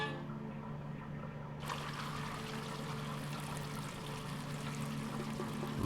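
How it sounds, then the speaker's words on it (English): Water flowing through a hose and sprinklers near an alchemy lab in the puzzle game Quern, a steady rushing stream that swells partway through and continues evenly, alone without talk. "I hear something flowing, like water."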